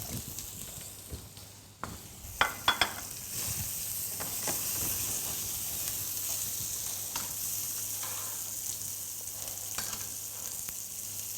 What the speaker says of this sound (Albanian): tigani ka një nxehtësi pothuajse të lartë. Është momenti që ne të shtojmë gjalpin.